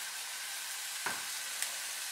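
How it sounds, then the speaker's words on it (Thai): Tuna steak fries in a hot pan with no added oil, giving a steady, fairly quiet sizzle throughout with a couple of brief crackles, and no talking. "เข้าไปทอดในกระทะนะคะ"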